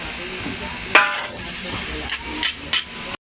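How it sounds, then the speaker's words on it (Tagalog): Beef chaofan fried rice sizzles in a pan while a spatula stirs and scrapes it steadily, with a few louder clanks against the metal before it cuts off abruptly. "Haluin lang ng haluin."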